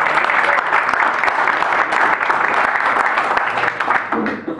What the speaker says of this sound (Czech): Prosím potlesk pro Brňáci.